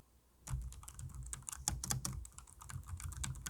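Rapid, steady key clicks from a mini-size Logitech Pebble 2 Combo low-noise keyboard with round keys begin after a brief quiet moment, continuing as soft, close, even tapping.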